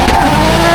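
A drift car accelerates hard on the throttle during a drifting championship, its engine roaring loud and close in one brief sustained burst.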